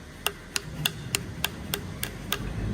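Sharp taps struck on hard horn of a horse's hoof with a fractured sole, eight crisp knocks at a steady, even rhythm, close and distinct over a quiet background rumble.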